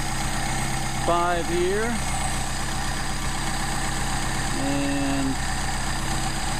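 Mercedes 190SL engine idling steadily on unmachined carburetors, a constant low hum running through the whole stretch while someone speaks briefly over it.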